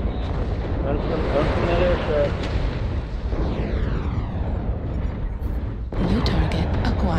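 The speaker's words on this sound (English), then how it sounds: "Watch out. Airstrike." Airstrike explosions in a mech combat video game, a dense, continuous roar of booming blasts and rumbling debris that stays loud throughout, with a player speaking over the barrage.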